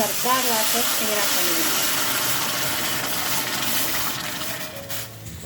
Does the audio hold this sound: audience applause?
no